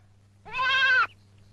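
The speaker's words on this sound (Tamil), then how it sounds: "வயல்ல ஆடு மேயுதே" A single goat bleat, clear and close, a wavering nasal cry of about half a second set against a low steady hum.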